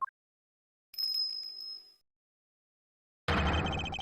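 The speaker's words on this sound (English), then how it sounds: "That sound. Is that a bell?" A bell chimes in the video game Ace Attorney Investigations 2, one clear ringing tone lasting about a second, followed by a burst of game music.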